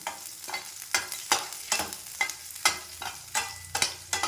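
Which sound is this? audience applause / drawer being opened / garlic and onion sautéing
garlic and onion sautéing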